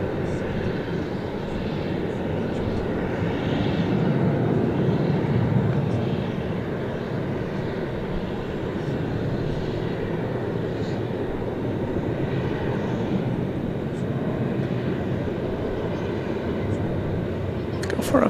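A large jet rumbles at DFW airport at night, a steady broad engine roar lasting throughout, fairly distant and even, with a voice faintly audible beneath it.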